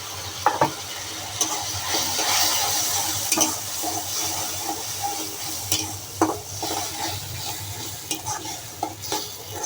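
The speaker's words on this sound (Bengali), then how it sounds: "মশলাটা কষানো হলে ভালো করে আদা রসুনের গন্ধ আসবে না এই জন্য মশলাটা ভালো করে কষাই নিতে হবে" Spice paste of chili, salt, tomato, ginger and garlic sizzles in a pan for a rohu fish and potato curry while a spoon stirs and scrapes through it, steady frying broken by irregular clinks and scrapes up close.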